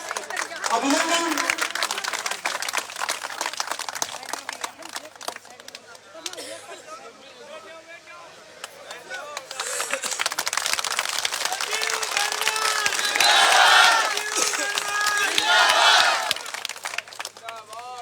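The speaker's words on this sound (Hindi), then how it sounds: "जोरदार तालियों से" A village crowd at a welcome ceremony in Chhani Badi claps and cheers loudly, with bursts of applause rising and falling around a voice on a public address system.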